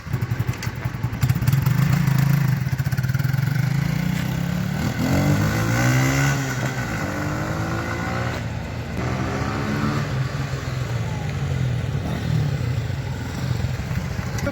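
A Lifan Lion 125cc motorcycle engine runs steadily close by, its mid-pitched drone rising and falling slightly as it revs, with a light mechanical clatter throughout and no talk.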